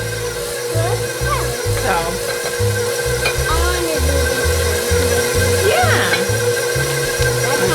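An electric mixer stirs chocolate chip cookie dough with two eggs added, making a steady, close motor whir with rhythmic low thumps as the beaters churn. A child and an adult talk briefly over it.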